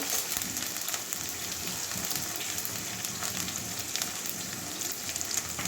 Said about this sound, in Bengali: ভেন্ডি ভাজবো আদা রসুন আর কাঁচা গন্ধটা যাওয়া পর্যন্ত